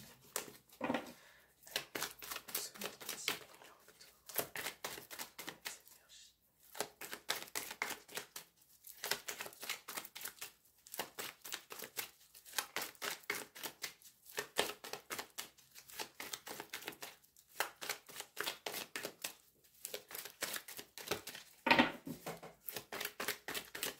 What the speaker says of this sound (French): J'ai du mal à le mélanger,